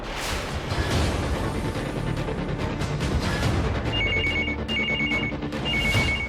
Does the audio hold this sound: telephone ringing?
yes